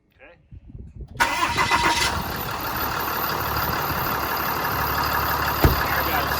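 A Ram 6.7 diesel truck engine cranks and starts after its glow-plug preheat, then settles into a steady, loud close-up idle that runs on alone after faint noises at first.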